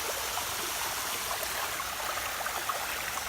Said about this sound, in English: there's water and it's falling